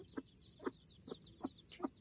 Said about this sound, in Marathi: हे आहे आपलं गावरान पाखरू.